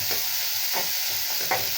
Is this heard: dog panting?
no